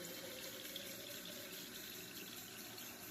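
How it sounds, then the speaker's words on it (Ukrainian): Room-temperature water runs from a tap into a jar as an even, faint rush that stays steady from start to finish, with no voices. "налити для початку банку води. Вода має бути кімнатної температури."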